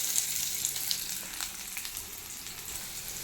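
Sliced onions are frying in hot coconut oil for a goat brain dish. A steady, close, crackling sizzle with small pops runs throughout, and no one speaks.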